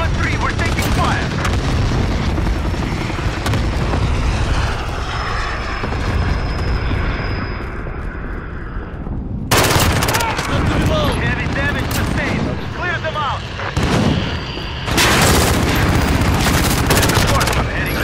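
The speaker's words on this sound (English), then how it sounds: "4-3, we're taking fire!" Dense automatic gunfire and explosive booms fill a Call of Duty team deathmatch, with rapid shots and bursts throughout, a loud barrage in the second half and a background roar like aircraft, while players shout over it.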